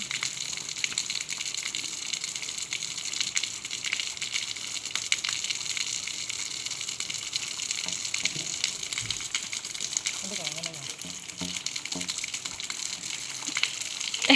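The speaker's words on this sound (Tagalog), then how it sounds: "Sagana po dito ng tubig." Water gushes continuously with a steady rushing hiss from a plentiful water supply while bathing, moderately quiet and unbroken throughout.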